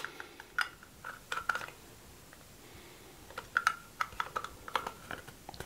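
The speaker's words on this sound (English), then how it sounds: "Press down and turn till it clicks" Plastic battery cap on a Flafster kitchen pepper grinder being twisted: a scatter of small, sharp clicks and ticks in two clusters, close and quiet, no talk.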